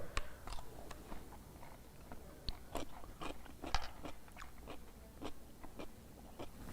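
A pickle bitten and chewed up close, a series of sharp wet crunches at irregular intervals, loud against a quiet background, with soft chewing between the bites.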